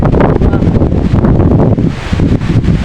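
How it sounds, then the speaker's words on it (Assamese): Loud, roaring wind buffets the microphone in heavy continuous gusts, with rustling leaves beneath the rumble. "ইমান দিনৰ মূৰত আজি মাত্ৰ ইমান ধুমুহা বতাহ বলিছে"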